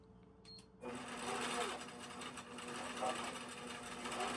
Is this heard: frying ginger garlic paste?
no